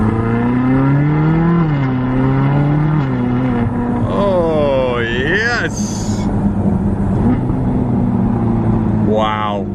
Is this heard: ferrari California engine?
yes